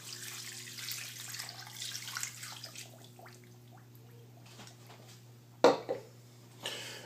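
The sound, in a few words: water pouring into a pot of pork for carnitas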